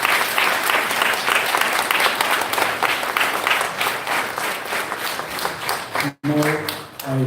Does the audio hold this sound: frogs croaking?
no